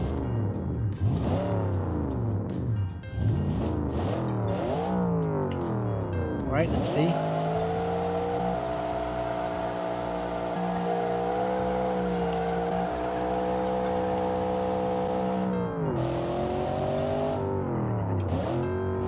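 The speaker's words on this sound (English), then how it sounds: "Listen to that engine now." A car engine with a nitro system revs up and down through repeated sweeps in Automation and BeamNG, then holds a loud, sustained high roar, with brief speech over the top.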